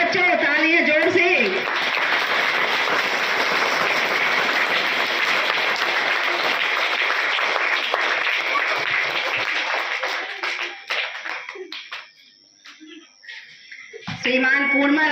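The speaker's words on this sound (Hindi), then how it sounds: "तालियों में कंजूसी मत करो बच्चों" Schoolchildren applaud loudly at a school ceremony, with sustained dense clapping from a large group that fades out near the end before a brief burst returns.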